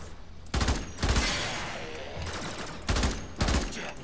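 Primary weapon fire in the video game Warframe: two loud bursts of rapid automatic gunfire, each with a rolling echo that fades between them.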